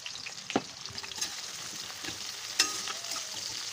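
Chopped ginger, two bay leaves and a little cumin sizzle in a hot kadai for chicken curry, a steady close frying hiss broken by a sharp pop or clink near the start and another later on.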